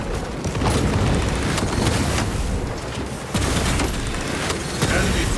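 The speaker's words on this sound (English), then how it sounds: "Frag grenade out." Frag grenade blast in Warhammer 40,000: Space Marine 2 amid heavy battle noise: dense, loud booming and gunfire rumble with several sharp bursts, continuous throughout with no quiet gaps.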